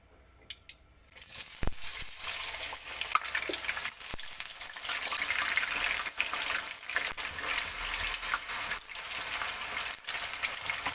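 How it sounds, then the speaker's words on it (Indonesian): Potatoes fry in hot oil. The clip opens nearly quiet, then a dense, close sizzle builds and runs continuously, with occasional clatters and pops from stirring. "Ini saya akan goreng dulu kentangnya."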